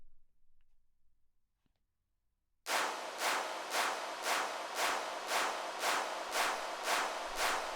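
Layered claps processed through a Space Designer reverb in Logic Pro start abruptly after near silence, then repeat in an even rhythm of roughly eight loud, bright, washy hits with reverberant tails, with no voices.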